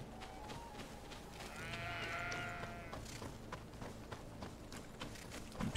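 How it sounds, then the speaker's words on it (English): A sheep bleats in a village in the video game GreedFall, one drawn-out wavering call standing clear over a low ambient game soundscape, with faint clopping steps. "Sheep."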